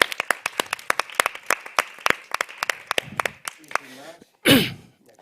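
A small group claps for a few seconds at an academic gathering, sparse individual claps that thin out and fade, followed by a brief voiced sound.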